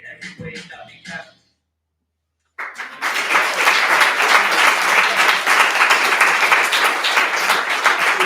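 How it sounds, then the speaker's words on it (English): Brief talk and a moment of silence give way to a swelling burst of audience applause after a performance at an end-of-project event, loud and sustained to the end. "Thank you so much for that beautiful applause and for taking that in."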